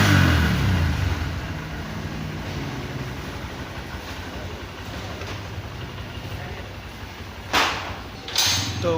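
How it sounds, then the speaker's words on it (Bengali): A Honda CB125 Hornet motorcycle engine idles at a service center, running with a steady low rumble that stays close and loud for the whole stretch, with a couple of brief mechanical clanks near the end. "ওটার জন্য একবার ইঞ্জিনটা অন করে দেখছেন।"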